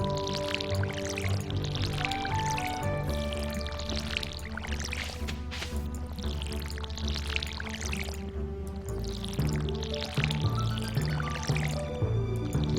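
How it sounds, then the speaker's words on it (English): Crops being watered in Stardew Valley, a steady pouring and dripping splash that repeats over a continuous bed of music, with no talking. "let's water all these things"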